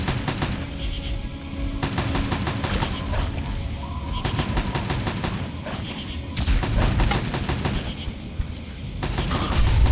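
A Mark 5 turret in the video game Fallout 3 fires continuous rapid bursts, a dense, loud rattle of gunfire layered with clanking and echoing impacts that keeps going without a break.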